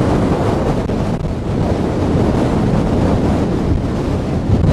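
Strong, steady roar of high wind buffeting the microphone on a beach, blended with continuous crashing surf, loud and unbroken throughout with no voices.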